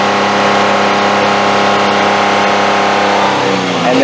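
Car engine held at a steady high rev around 4,000 RPM, loud and close, with a strained sustained drone that drops slightly near the end; the car has a random misfire, lacks power and won't drive over 50 mph.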